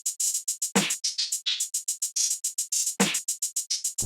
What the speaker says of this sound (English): I had this simple clap pattern, which basically is just like a default clap pattern